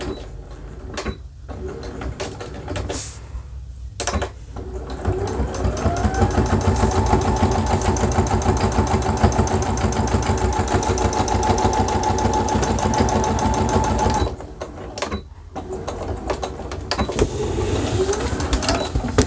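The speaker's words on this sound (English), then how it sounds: "We want to put a top stitch on the top of this pocket" A sewing machine top stitches 1/8 inch along the top of a sling bag pocket, humming in a steady, fast mechanical run for about nine seconds between shorter starts and stops.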